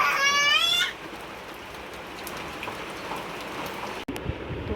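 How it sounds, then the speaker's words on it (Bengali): Steady rain falling outdoors as an even, continuous hiss of drops, opened by a brief high wail from a small child before the rain carries on alone. "বৃষ্টি হচ্ছে এখন"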